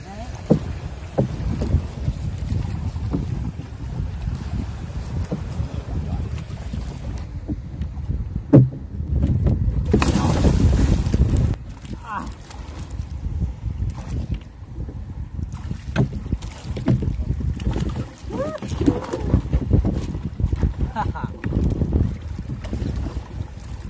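A small wooden boat rowed out on the sea off Looc, Romblon, with steady water wash and gusty wind noise on the microphone, a louder splashing burst midway, and a few faint voices in the background.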